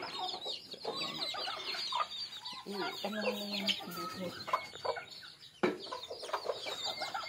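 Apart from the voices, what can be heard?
chickens clucking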